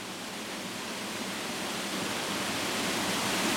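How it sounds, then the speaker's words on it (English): River Avon water rushes steadily beneath a small footbridge in the Wiltshire countryside, a dense, continuous broadband wash heard up close with no voices. "You can hear the water beneath me."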